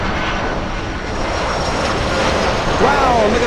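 Lufthansa airliner at Miami International Airport in stormy weather: a loud, steady jet engine roar throughout, with a short rising whine near the end and a voice speaking over it.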